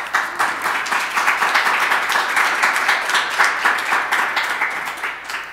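A small crowd at an outdoor-style press conference claps for a police sergeant, brisk rhythmic applause of moderate size holding steady for several seconds before thinning slightly.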